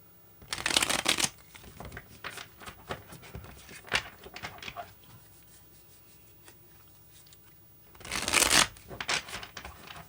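Tarot cards being shuffled by hand, with two loud riffling bursts at the start and end and softer sliding, tapping card handling in between, close and with no talking.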